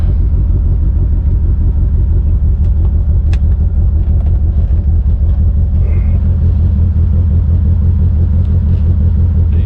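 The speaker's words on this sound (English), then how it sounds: "Cold start." A GSX engine runs after a cold start, a loud, close, steady low rumble at idle that holds evenly throughout with no voices.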